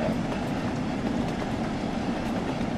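A steam train runs in Train Sim World 3, heard as a steady, loud rolling rumble of rail wheels and carriages with a faint rhythmic clatter. The sound holds even throughout and nobody speaks.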